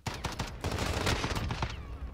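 FAL rifle fire in Modern Warfare, a rapid string of loud, sharp close-range shots that runs for about two seconds, with no voices over it.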